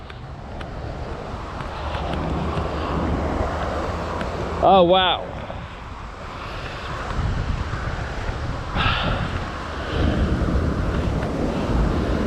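Water pours continuously over a weir on a local river, a broad outdoor rush mixed with wind buffeting the microphone, with a brief exclamation from a person partway through.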